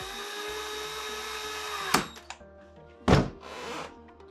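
Power screwdriver driving screws while installing a smart door lock, a steady high whine that ends in sharp thunks and clunks, followed by another brief louder burst.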